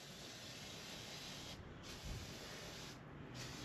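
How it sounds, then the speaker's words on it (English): Lubricant sprayed onto a worn motorcycle chain and sprocket, a steady close hiss lasting the whole time with two short breaks in the spray. "So I'm just going to lube the piss out of it."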